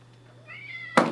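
A cat gives one short rising meow at close range, followed by a sudden loud thump, over a faint steady hum.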